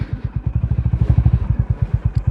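A motorcycle idles close by with a steady, loping thump of exhaust pulses while being edged into a parking spot among other bikes at the Suchetgarh border post.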